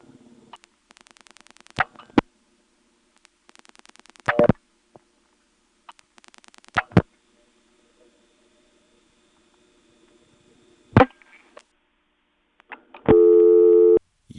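A senderized XY step telephone switch clicks and buzzes as it routes a dialed call, bursts of rapid relay chatter and sharp clacks separated by quiet gaps, ending in a steady loud tone, no voices.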